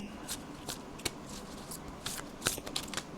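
A deck of tarot cards is shuffled up close in quick papery riffles and soft flicks, with short bursts separated by brief gaps in a quiet room.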